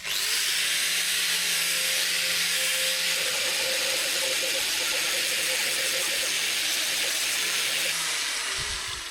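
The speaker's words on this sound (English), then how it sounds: "I'll go over it with a wire wheel, clean it up." A wire wheel on a power tool scrubs rusty steel offcuts for a truck camper bumper build, giving a loud, steady abrasive hiss that runs unbroken for several seconds before tailing off.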